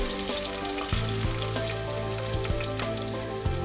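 Ginger, garlic and green chillies sizzle steadily in hot oil in a pan for a beetroot carrot pickle, a dense continuous frying hiss with a few soft stirring knocks and no talk.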